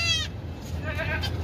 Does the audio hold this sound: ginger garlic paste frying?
no